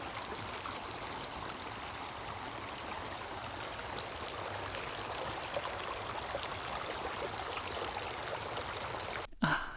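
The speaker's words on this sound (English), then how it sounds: "Isn't the sound of water so relaxing?" Steady broadband rush of flowing water, continuous and even throughout, like a nearby stream, ending with a brief sharp knock.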